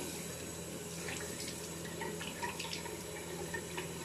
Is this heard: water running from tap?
yes